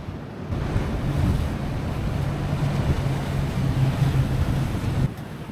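Surf washes steadily onto a sandy beach in the British Virgin Islands as strong wind buffets the microphone, a loud, continuous roar that holds at a constant level for several seconds.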